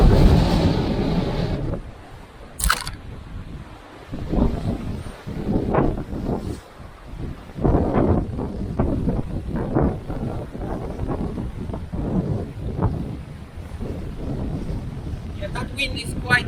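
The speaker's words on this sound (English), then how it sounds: "that wind is quite nasty" Strong gusting wind on the coastal cliffs of Watermouth Cove in North Devon buffets the microphone in loud, rumbling surges, with a person talking and breathing through it.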